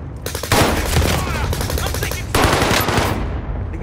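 Rapid automatic gunfire from a multiplayer shooter video game, loud and close, in two long sustained bursts of fast repeated shots with a brief lull between.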